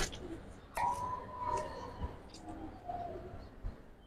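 Pigeons of a long-bodied breed coo in a loft, soft repeated low calls close by, with a few sharp bird chirps and knocks over a busy background.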